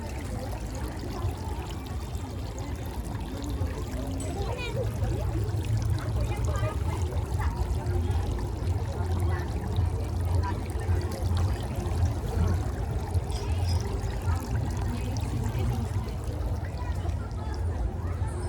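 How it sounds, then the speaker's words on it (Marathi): Running water pours steadily from a tap as feet are washed at a Hindu temple in Karnataka, a continuous close splashing stream that grows fuller midway, with voices talking nearby. "चप्पल कुठे काढायचे मित्रांनो हे बघा ते आता आपण पाय धुवून घेऊ"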